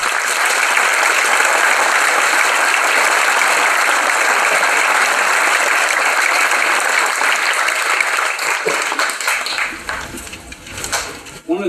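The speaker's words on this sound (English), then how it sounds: "please, a round of applause for our pavers" Outdoor applause at a Memorial Day ceremony honoring memorial pavers, loud sustained clapping that thins out near the end into a few scattered claps and light clatter, with voices beneath.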